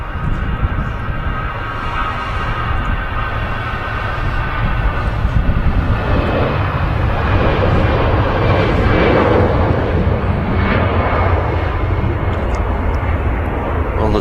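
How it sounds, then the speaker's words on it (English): An EasyJet airliner on its take-off roll at Manchester Airport, bound for Bordeaux, gives a loud, continuous jet engine roar that swells steadily, broadband and sustained without a break. "EasyJet on the roll to Bordeaux."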